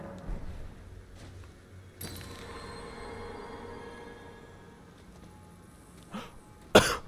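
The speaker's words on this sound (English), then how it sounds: "I started coughing for some reason" A person coughs indoors during an Elden Ring gaming session: one sharp cough, then a quieter stretch of low background sound, then a second loud cough close to the microphone near the end.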